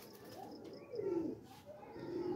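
A pigeon coos softly nearby in a low, rolling rhythm, with a couple of longer swelling coos over faint chirps and quiet background hum.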